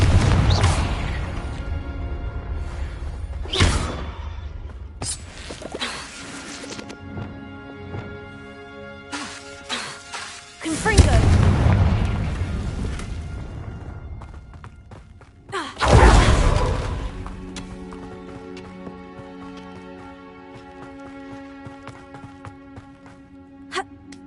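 Spell combat in Hogwarts Legacy, including the Confringo blasting spell, bursts out as several loud booming explosions and crashes with ringing magical tones and a musical score between them.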